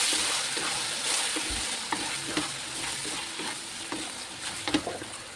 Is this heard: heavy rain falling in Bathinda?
no